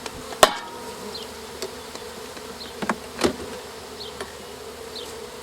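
Honeybees buzz around an open beehive in a beekeeping setting, several insects droning close by with sharp passing whines and a few soft clicks and knocks under steady hum.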